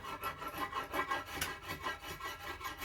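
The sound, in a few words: scraping bark layer off an ash wood longbow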